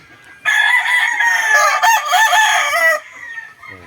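A Sweater-line gamecock rooster gives one loud, close crow lasting about two and a half seconds, rising and breaking in the middle before cutting off into quiet.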